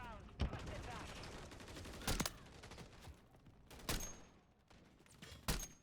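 Gunfire rings out in a video game, four sharp separate shots spaced about one to two seconds apart over a low, busy background of game noise.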